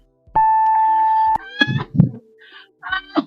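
A game-night timer gives one long steady electronic beep, then a person speaks in short bursts right after it.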